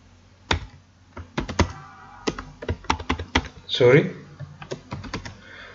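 Scattered keystrokes on a computer keyboard while writing Python code, crisp close clicks in short irregular bursts, with a brief spoken sound in the middle.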